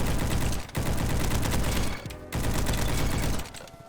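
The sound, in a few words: Scar assault rifle gunfire in a video game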